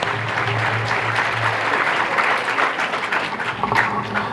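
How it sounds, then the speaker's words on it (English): Audience at a youth symposium applauds dignitaries after a panel discussion, dense continuous clapping throughout, fairly loud and close, with a faint low hum underneath. "give a big round of applause to all the dignitaries"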